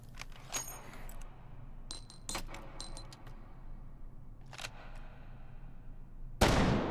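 A Tankgewehr anti-tank rifle is fired offhand in the VR shooter Hot Dogs, Horseshoes and Hand Grenades. Sharp metallic clicks and handling clatter come first, then a single loud, booming shot lands right at the end.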